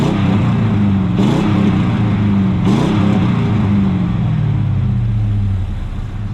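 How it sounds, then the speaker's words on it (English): A 6-liter LQ9 Vortec V8 with headers and an aftermarket muffler revving in a Cadillac Escalade convertible, a loud, deep exhaust rumble rising in two quick blips before easing back down to a steady idle. "6-liter LQ9 Vortec V8 is amazing, but it also has headers and an aftermarket muffler"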